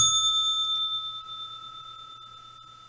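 Single bright bell ding marking the stock market open, a clear struck tone that rings on and slowly fades with no speech.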